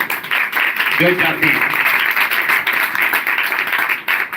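A congregation claps and applauds through a church sermon, a steady wash of clapping that carries on under a voice speaking.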